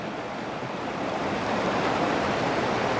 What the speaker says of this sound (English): The sounds of this gorgeous water.